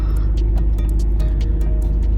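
A car engine idles steadily as it warms up, a low continuous rumble with a few faint higher clicks and ticks scattered over it, heard from inside or close by.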